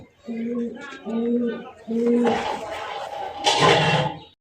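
Local pigeons for sale coo three times in low, rounded calls, close by. Busier rustling and market noise follow.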